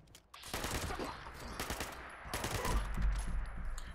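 Rapid bursts of automatic fire from a 10mm submachine gun in Fallout 76, several quick strings of shots at moderate loudness, with a deeper thump building toward the end.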